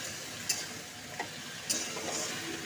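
Okra and potatoes frying in a pan with a faint soft sizzle, broken by a few sharp light clicks of a utensil stirring against the pan.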